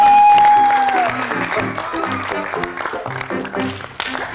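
Audience applause welcoming a couple onto a school stage, clapping mixed with music and a voice throughout, fairly loud and continuous.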